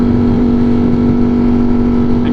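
A Ducati naked motorcycle engine revving to about 14,500 rpm holds a loud, steady high-pitched drone close by, with no talking.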